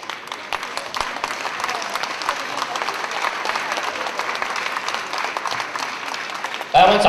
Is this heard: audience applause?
yes